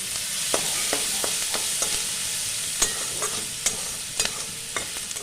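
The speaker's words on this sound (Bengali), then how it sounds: "আমি পেঁয়াজটা লাল করে ভেজে নেওয়ার পর অল্প পরিমাণে জল দিয়ে দেবো" Onions fry in a pan for a small-fish kachki chorchori, giving a steady close sizzle broken by regular scraping stirs of a spatula against the pan.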